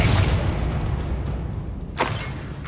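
A Bombarda blast spell goes off in Hogwarts Legacy, a loud rumbling boom that fills the opening second and fades into a low roar, followed by a sharp burst of impact near the two-second mark.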